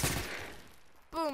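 A gunshot cracks in the online shooter Phantom Forces, a loud burst that quickly decays into a fading tail, followed by a brief tonal in-game cue near the end.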